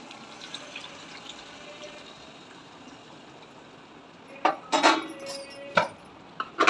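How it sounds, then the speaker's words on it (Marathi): Boiled mutton stock poured into a cooking pot of vegetable curry: a quiet hiss, then a few short, close splashing bursts near the end. "आणि मटण उकडलेलं होतं, आपण ते पाणी टाकून घेऊ।"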